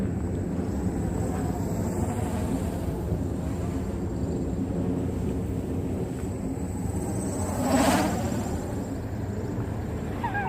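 An MJX Bugs 3 brushless quadcopter on a 3S battery with an XT60 mod drones steadily near full throttle outdoors, a loud continuous motor whine that swells briefly partway through, with no talk.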